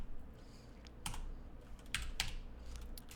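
Keys clatter on a computer keyboard as a formula is typed into an Excel spreadsheet, a few quick close clicks in short bursts over a quiet background.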